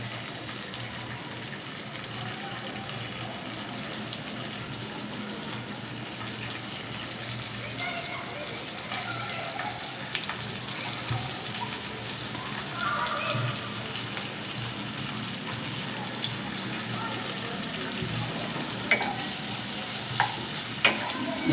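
Finely chopped onions frying in oil left over from frying fish, a steady rain-like sizzle running throughout with occasional soft clinks of stirring and a voice speaking over it.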